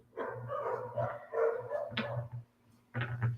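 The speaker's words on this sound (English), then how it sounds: "there's like a million dogs where I live" Neighbourhood dogs barking in several close, loud bursts with short gaps, a mix of deep woofs and higher yips, with no voices.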